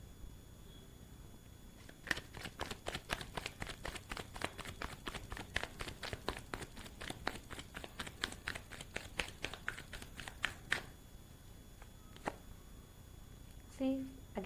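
Tarot cards are handled and shuffled close by in a long run of quick, light riffling clicks. The shuffling goes on for several seconds and then gives way to a few scattered taps.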